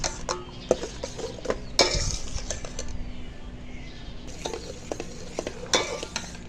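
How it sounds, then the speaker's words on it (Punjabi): Raw mango papad mixture cooking in a pan and being stirred until thick, with a soft bubbling sizzle under repeated scraping and clinking strokes of a spoon against the pan. "ਹੁਣ ਇਹਨੂੰ ਨਾ ਗਾੜਾ ਹੋਣ ਤੱਕ ਪਕਾਵਾਂਗੇ, ਜਦੋਂ ਤੱਕ ਇਹ ਗਾੜਾ ਨਹੀਂ ਹੋਏਗਾ"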